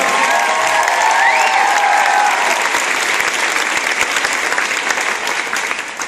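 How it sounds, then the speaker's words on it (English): Loud, dense applause from a crowd at a school band camp, greeting a flute player, sustained throughout and easing slightly at the end, with a brief sustained tone sounding early on. "Big round of applause for Mr. Elon Kang on the flute."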